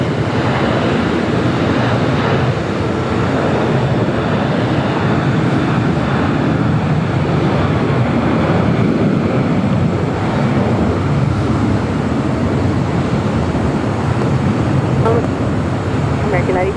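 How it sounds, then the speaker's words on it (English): A JetBlue Airbus A321 jet rolling down the runway for takeoff at LAX, a continuous loud broadband roar of engine and rushing air that holds steady throughout, with faint voices in the background. "another JetBlue A321 now rolling down"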